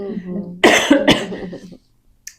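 A person coughs forcefully twice up close, followed by a short throaty rasp, then silence.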